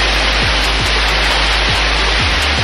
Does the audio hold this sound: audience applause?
no